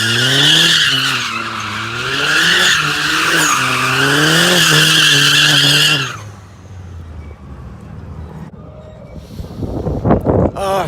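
Cars drifting at a street car meet produce a loud, continuous tire squeal with wavering pitch and a revving engine for about six seconds, then quieter wind noise and distant rumbling.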